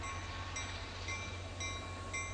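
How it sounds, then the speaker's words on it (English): Train running on the railroad: a steady, continuous rumble with faint high tonal whines and light rhythmic clicks, heard alone at a moderate distance. "Railroad service began running to Rockport"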